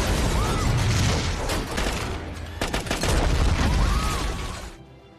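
Rapid bursts of gunfire in a film shootout during a rebel attack, with dense overlapping volleys, sharp cracks and booming impacts filling the scene before cutting off abruptly.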